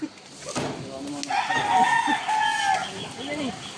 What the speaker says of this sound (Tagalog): Tilaok na yata yan.